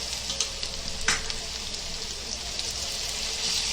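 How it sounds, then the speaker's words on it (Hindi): Onions with salt frying in hot oil, a steady bright sizzle throughout with a few brief louder crackles near the start, close and alone. "तेल डाल दिए, तेल गर्म हो गया। अभी हमने प्याज डाल दिए, इसके अंदर नमक डालेंगे।"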